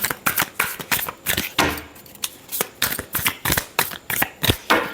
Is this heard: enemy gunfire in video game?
no